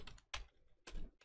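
Java code is typed on a computer keyboard in quick bursts of key clatter separated by short pauses, close up and fairly quiet.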